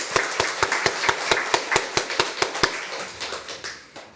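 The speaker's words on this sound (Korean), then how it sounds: "우리 박수로 한번 격려하겠습니다." A church congregation claps together in a steady, even rhythm of about four sharp claps per second, fairly close and loud, then fades out near the end.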